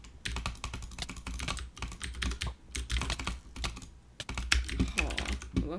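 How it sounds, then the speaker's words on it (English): Fast, dense keyboard typing clatters almost continuously in bursts with brief pauses, loud and close, as someone hammers out a long stretch of text on a computer keyboard. "He's typing a paragraph."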